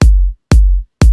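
Three punchy kick drum hits run through a compressor at a high ratio with the sub rolled off, evenly spaced about half a second apart, each with a hard attack and short tail, loud and alone.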